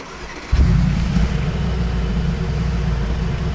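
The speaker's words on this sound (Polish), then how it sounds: "Posłuchajcie, jak brzmi ten silnik" A Mercedes-AMG G63 engine starts up abruptly and settles into a steady, deep idle rumble, close by and loud.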